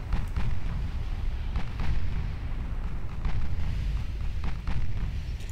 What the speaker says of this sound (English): Here are those torpedoes I was worried about.